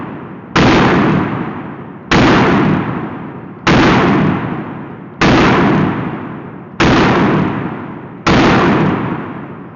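Springfield Echelon pistol firing six evenly spaced shots at a steady cadence, each a sharp loud crack with a decaying tail, heard close and with no talking.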